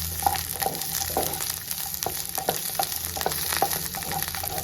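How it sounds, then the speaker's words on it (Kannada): Onions sautéing in hot oil for paneer butter masala, a continuous close sizzle broken by regular clinks and scrapes of a spoon stirring the pan, with no voices. "ಈರುಳ್ಳಿ ಚೆನ್ನಾಗಿ ಬಾಡಿಸ್ಕೊಳ್ಳೋಣ"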